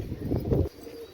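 A pigeon in a loft gives a brief, low, throaty coo that stops abruptly, leaving quiet room tone.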